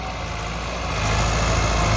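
A Massey Ferguson 375 tractor engine idles steadily at close range, a continuous low diesel rumble that grows slightly louder partway through, with no voices.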